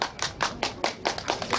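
Rhythmic clapping, about seven or eight even claps in quick succession, close and fairly loud, like a small group keeping time at an outdoor Korean pop-song concert.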